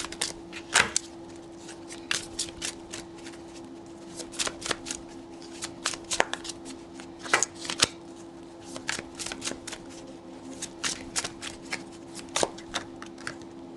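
A deck of tarot cards is shuffled up close in repeated quick riffles and sharp slaps, in irregular bursts over a faint steady background hum.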